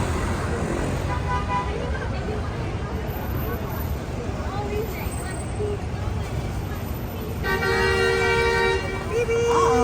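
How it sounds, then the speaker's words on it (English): Busy New York City traffic at night, heard from a hop-on hop-off tour bus, with a steady roar, car horns tooting repeatedly near the end, and a murmur of voices in the background. "Honking."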